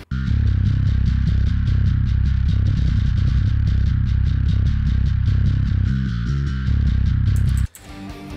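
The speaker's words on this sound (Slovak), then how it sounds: "Zase len limitujeme tú bas-gitaru." A dense, distorted metal mix with a heavy, compressed, limited bass guitar and driving drums plays loudly and steadily before cutting off abruptly.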